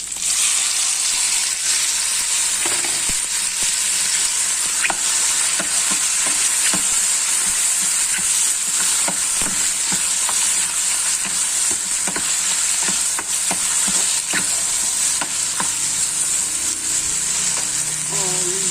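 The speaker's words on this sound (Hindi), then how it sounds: "थोड़े से प्याज मैंने फ्राई किए हैं। इसके अंदर मैं मशरूम डाल रही हूँ।" Onions and mushrooms fry in a pan with a steady, loud, dense sizzle that runs throughout, broken by frequent short clicks and scrapes of stirring, with no talk over it.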